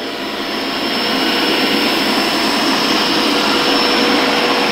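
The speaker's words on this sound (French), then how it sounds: "Donc là on entend la brosse centrale avec toutes les saletés aussi." Dreame X50 Master robot vacuum cleaner running with its central brush sweeping up dirt, a steady loud broadband whir that rises slightly at the start and then holds constant, with no talking.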